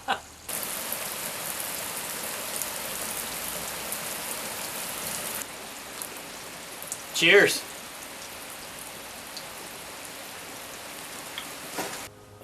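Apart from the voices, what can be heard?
rain falling outdoors in Oregon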